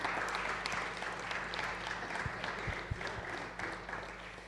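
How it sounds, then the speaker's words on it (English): Sustained applause from a conference audience greeting the opening speaker at DOTBrno, a dense steady wash of many hands clapping, moderately loud with a steady low hum beneath. "applause for her"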